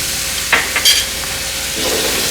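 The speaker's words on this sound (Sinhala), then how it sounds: "ලුණු ටිකක් දාගන්න. සුදු ලුණු තේ හැඳි 2ක් විතර දාගන්න." Garlic and string beans frying in a pan for a stir fry, with a loud continuous sizzle and a few short scraping stirs partway through.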